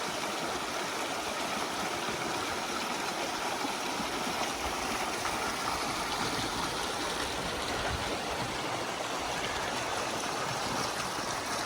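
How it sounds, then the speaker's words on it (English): A creek flows beneath a railed footbridge along the Colorado Trail, making a steady broadband rush and babble of water that stays even and moderately loud throughout, with no voices. "Then you look on this creek"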